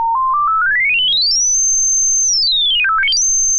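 A pure high-pitched sine tone for an EQ demonstration: it steps upward, glides to a very high sustained pitch, holds, then sweeps back down, dips low and jumps back up to the high tone, loud and alone.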